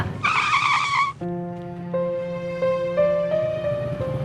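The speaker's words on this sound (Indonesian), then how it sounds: "Saya ngerem." A car's tires squeal sharply under sudden hard braking, a loud close screech lasting about a second, followed by a sustained tonal hum with no talk.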